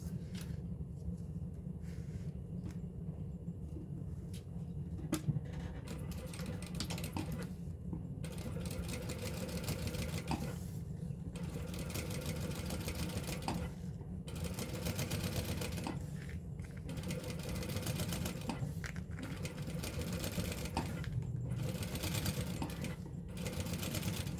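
A sewing machine top stitching a sling bag runs in a steady continuous whir for the whole stretch, with brief pauses and restarts, close and moderately loud.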